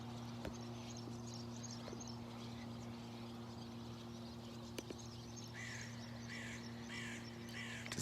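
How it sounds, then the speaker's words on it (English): Crows caw in a short repeated run, faint and distant outdoors near Galway, over a low steady hum and background noise. "Look at all these birds."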